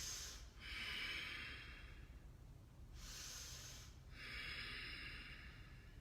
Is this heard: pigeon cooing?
no